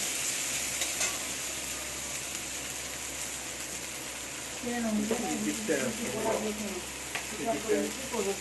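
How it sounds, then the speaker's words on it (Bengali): Onions sizzle in hot oil before spinach goes into the pan, a steady hissing crackle that runs throughout, with people talking over it in the second half. "পালং শাকের ভাজা হবে, তাই পেঁয়াজটা ভেজে নিচ্ছে আগে।"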